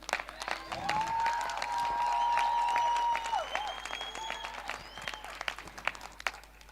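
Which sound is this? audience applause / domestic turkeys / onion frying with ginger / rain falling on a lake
audience applause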